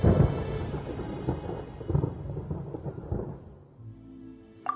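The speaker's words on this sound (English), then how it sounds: "Paimon hears thunder!" A rolling rumble of thunder during a storm in the video game Genshin Impact opens loudly and slowly fades, with rain faintly beneath and a brief sharp chime near the end.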